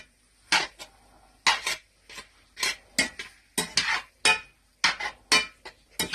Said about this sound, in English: I'll fucking go ahead and stir that shit around a little bit.